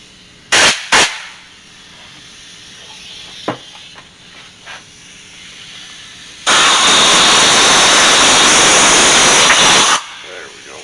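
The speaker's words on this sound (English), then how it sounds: "I seem to have misplaced my rubber tipped air gun, but hopefully this one will work." A compressed air gun blows out a piston from a 460 engine during a truck swap, one loud sustained hissing blast of about three seconds after a few short sharp puffs.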